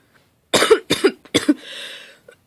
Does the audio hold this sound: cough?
yes